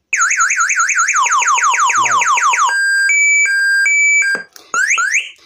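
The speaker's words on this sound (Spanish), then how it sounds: "Tiene unos avisos ahí y una vez que insiste, pues salta ya lo que es la alarma" A motorcycle alarm with a built-in mp3 player sounds loud and close, first a rapid rising-and-falling siren wail, then steady electronic beep tones and a few short chirping sweeps, with no voices.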